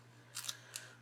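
Scissors snipping silk flowers on a corsage, two quick close cuts against a quiet background hum.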